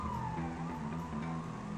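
A police car siren wails in the Lego City Undercover video game, a loud continuous tone sweeping downward over the engine drone of the car chase.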